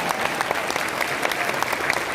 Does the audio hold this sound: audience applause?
yes